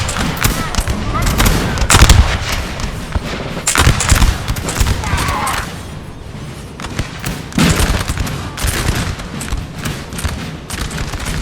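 Musket volleys crackle and boom continuously in a Napoleon Total War multiplayer battle between Swedish and Russian armies. Dense, loud, overlapping gunfire rolls in waves, and a voice talks over it.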